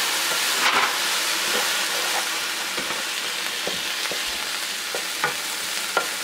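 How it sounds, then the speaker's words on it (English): Brussels sprouts sizzle steadily in a hot pan after squirts of Italian dressing, a continuous bright frying hiss with occasional crackles and pops and a few soft stirring clicks, close and without talk. "the Brussels sprouts have been cooking for a bit. So now we're just going to add the couple little squirts of the Italian dressing"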